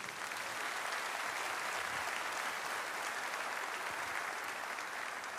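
A church congregation applauding the Lord during a Portuguese-language service, a continuous, even roar of many hands clapping heard on its own without speech.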